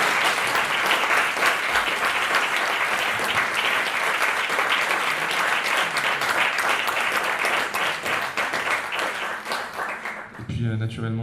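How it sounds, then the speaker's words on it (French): An audience at an education colloquium applauds the speakers, with sustained, dense clapping from many hands at an even level, tapering at the end as a voice begins. "Je demande que l'assistance applaudisse les intervenants"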